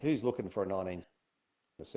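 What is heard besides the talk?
No everyday noise stands out behind the speech.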